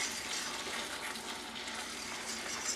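Milk poured into a pan of Southern sausage gravy gives a steady, hissing wash of liquid and sizzle that holds an even level throughout, with no voices.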